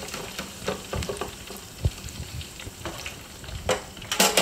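Onion rings frying in hot oil, a steady crackling sizzle with sharp pops and stirring clatter, fairly close, rising into a brighter burst of sizzling at the end.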